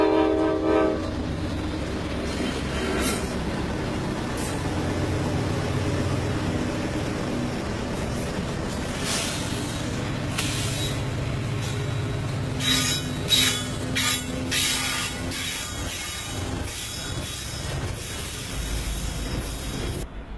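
Freight trains rumble along the Buchanan Branch railroad, a loud, continuous rolling roar of locomotives and cars with metallic wheel clatter and squeal, and sharp horn-like bursts near the end.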